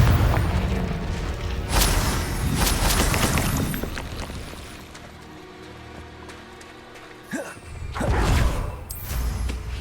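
Explosions from the Confringo spell in a Hogwarts video game strike in fiery bursts: loud booms with whooshing tails recur every couple of seconds over a steady crackling rumble.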